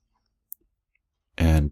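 A single crisp computer mouse click while working in PowerPoint, sharp and close in near silence, followed a moment later by a short burst of voice.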